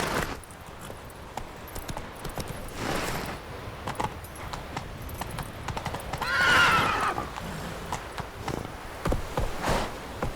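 Roach the horse gallops in The Witcher 3 with a constant rhythm of close hoofbeats, a clear neigh rising midway, and jingling harness beneath, moderately loud throughout.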